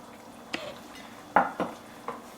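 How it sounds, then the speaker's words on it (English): Stirring Burmese-style pork curry with ginger, garlic, shallots and lime juice in a pot: a few separate scraping clinks of a utensil against the pot, moderately close, with quiet pauses between them. "And now we want to give it a stir."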